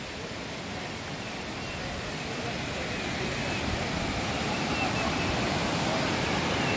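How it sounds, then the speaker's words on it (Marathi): A waterfall near Torna and Rajgad forts in the Sahyadri hills roars as a steady, dense broadband rush that swells slightly louder toward the end, with no speech. "हा सुंदर असा धबधबा"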